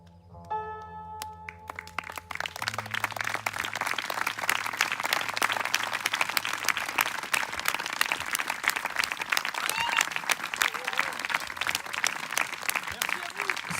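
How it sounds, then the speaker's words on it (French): Audience applause at a creative festival event, a dense sustained clatter of many hands clapping that swells in after a few seconds of music and carries on steadily to the end. "C'est vous que vous applaudissez"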